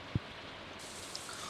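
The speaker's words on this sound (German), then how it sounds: "Heute regnet es natürlich wieder rein." Rain falling in the farming video game Stardew Valley, a steady soft hiss of rainfall with one brief low thump near the start, heard alone with no talking.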